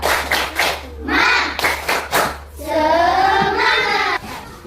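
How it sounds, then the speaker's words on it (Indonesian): A classroom doing a rhythmic spirit clap: groups of sharp hand claps in a patterned beat, broken up by voices of the class chanting together in between. "Tepuk semangat."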